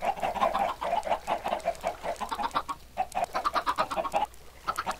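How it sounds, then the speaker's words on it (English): Chickens in the Minecraft video game cluck in quick repeated bursts, several birds overlapping in a steady busy stream across the whole stretch, with brief gaps and no talk. "let me just spawn some chickens real quick"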